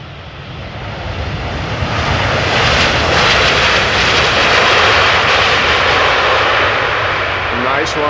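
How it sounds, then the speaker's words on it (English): A Boeing Dreamliner arriving at Amsterdam Schiphol from New York JFK on flight 644 builds into a loud, broad engine roar that sustains as it passes close by. "So this is a Dreamliner arriving from New York JFK"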